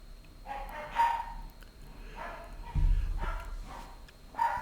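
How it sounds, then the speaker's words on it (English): A dog barks in the early morning, about three separate barks spaced a second or more apart, fairly distant and muffled against a quiet room. "Don't know why I have a dog barking this early in the morning."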